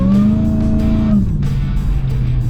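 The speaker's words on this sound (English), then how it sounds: "You can hear the supercharger whining." A supercharged 800hp Hemi V8 in a Jeep Gladiator on 40-inch tires roars under acceleration off road with a high supercharger whine riding over it, then drops in pitch as the revs shift.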